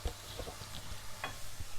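Potatoes frying in a pan: a steady close sizzle with occasional scraping stirs from a utensil, alone and with no talk.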